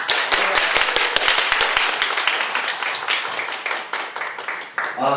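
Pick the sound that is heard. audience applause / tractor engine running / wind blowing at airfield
audience applause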